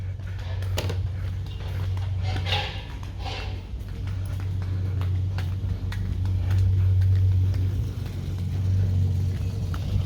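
A car with a newly fitted motor pulling up at home, a steady low engine rumble rising and falling as it draws near, with faint background noise throughout.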